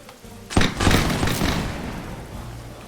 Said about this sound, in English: Forming up a line of infantry and seeing the line of smoke after they fire is pretty